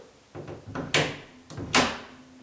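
Bathroom double doors with a ball and socket catch being closed: two quick pairs of wooden knocks and thumps as the doors swing shut and the catch snaps in, close and fairly loud.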